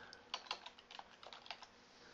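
Quick, light keystrokes on a computer keyboard while entering Excel spreadsheet functions, a close but soft run of irregular taps in small bursts with no talking.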